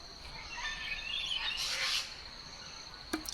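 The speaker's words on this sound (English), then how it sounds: "listen to the birds" Faint birds chirp and trill over a steady insect drone in a quiet evening setting, with a brief sharp click near the end.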